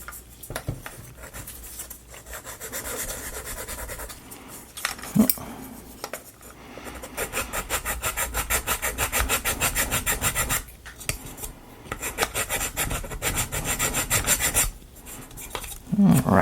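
Sanding a wooden part from a UGEARS Tourbillon table clock kit: repeated close scratchy rubbing strokes in long bursts, with a few short pauses and light knocks, no talking.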